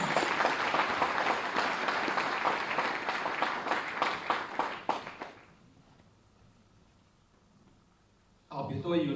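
An audience at the launch event of the Abhyudaya scheme, attended by the Chief Minister, gives loud, dense applause for about five seconds, which fades into a quiet hall before a speaker begins.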